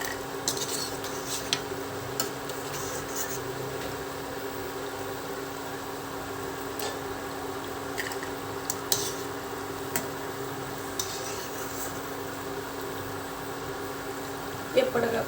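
Chitti chakodi snacks frying in hot oil give a steady bubbling crackle that runs throughout, with a few sharp clinks of utensils on top.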